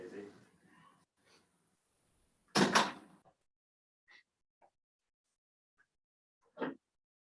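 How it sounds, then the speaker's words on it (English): A door is shut indoors with a single sharp thud, right after a few quiet spoken words, followed by faint small knocks and a short rustle. "let me just close my door real quick"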